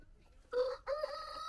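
A rooster crows twice in close succession, loud and near, among chickens on a farm, with no talk over it.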